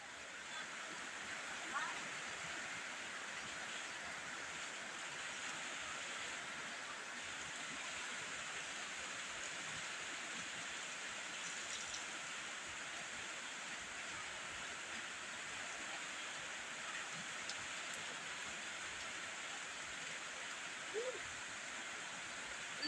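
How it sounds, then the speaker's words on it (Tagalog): Steady rain falling outdoors as a child gets soaked in it, a continuous even hiss of moderate loudness with no clear breaks. "Ulan, maligo tag-ulan."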